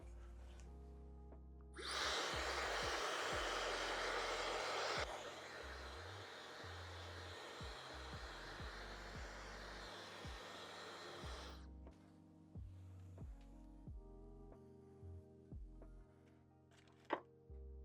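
A hair dryer blows on hair treated with purple shampoo: a loud steady whoosh starts abruptly, drops to a lower setting after a few seconds, then cuts off, leaving quiet handling taps and clicks.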